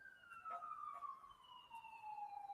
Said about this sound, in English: There's about to be an ambulance passing.